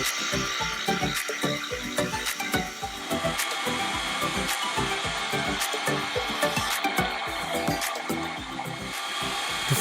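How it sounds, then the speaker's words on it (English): A valve bushing for a model steam boiler is parted off on a lathe, a continuous close metal-cutting whir with rapid rough chattering pulses running throughout at steady loudness. "the valve bushing is parted off and the top side is faced"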